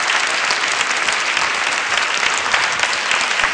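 A live audience claps without pause at a ballroom dance competition in a TV studio, making a dense, steady roar of applause that fills the whole moment.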